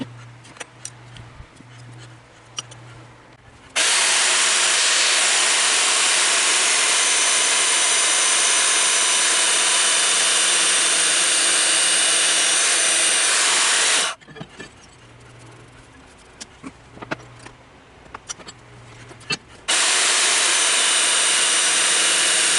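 Band saw slicing through a half-inch-thick aluminum plate: two long, loud, steady cutting passes, roughly ten and three seconds, separated by quieter workshop pauses with faint ticking and a low hum.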